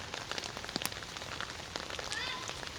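Steady rain patters densely on a nearby surface, with scattered sharper drops hitting throughout and a faint voice in the background.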